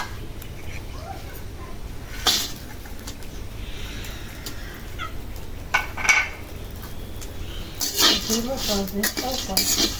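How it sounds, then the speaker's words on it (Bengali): Fish frying in a pan during home cooking, with metal utensil clinks and scrapes as it is stirred, a few sharp knocks standing out over a low steady background. "মাছটা ভাজে ফেলবো মাছটা"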